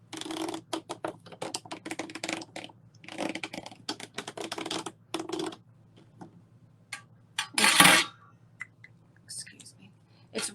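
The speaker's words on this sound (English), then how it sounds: "draw a circle using your Sharpie" A Sharpie marker drawing a circle on a surface while making a wreath, giving a run of short, dry scratchy strokes up close, broken by pauses, with one louder scuffing burst near the end.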